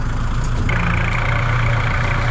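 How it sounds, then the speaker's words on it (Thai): A farm tractor engine runs steadily up close, a loud, continuous low rumble with no breaks and no voices over it. "ขึ้นรถไถครับท่านผู้ชม"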